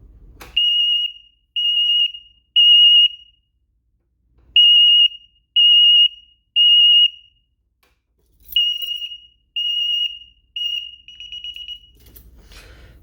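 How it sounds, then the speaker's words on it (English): A DSC alarm panel's fire panic alarm blares loud and shrill in repeated groups of three piercing beeps with short pauses between, close and alone with no talking. "Next, we're going to do the fire panic. This is extremely loud"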